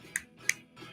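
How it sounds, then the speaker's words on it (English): Two sharp hand claps, about a third of a second apart, mark the start of a podcast recording about bow hunting in a quiet room. A fainter tap follows near the end. "I forgot to do the clap thing."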